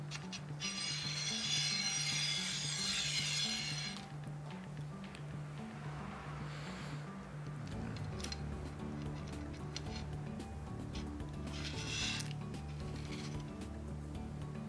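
Spring-loaded reflector holder clamps slid onto a rod, giving quiet close scraping and rubbing with small metallic clicks and a brief rasping hiss early on, no talk.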